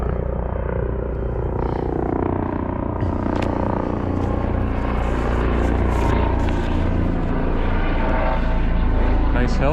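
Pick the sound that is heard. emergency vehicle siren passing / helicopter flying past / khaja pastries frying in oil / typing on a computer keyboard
helicopter flying past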